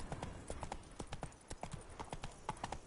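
A horse gallops in The Witcher 3, its clip-clop hoofbeats coming in a quick, steady rhythm at close range with no talk over them.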